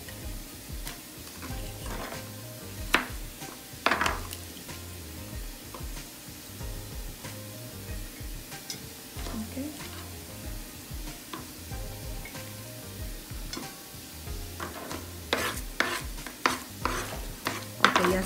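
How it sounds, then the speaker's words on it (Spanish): Shrimp escabeche being stirred in a pan, with a steady soft sizzle under repeated scraping and clinking strokes of the utensil, close and moderately quiet, with no voices. "Voy a remover esto aquí."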